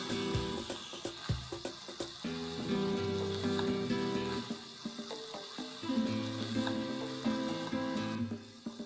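A kilo of minced lamb for shepherd's pie frying in a pan, a steady close sizzle that runs throughout with a few clattering knocks of the utensil near the start.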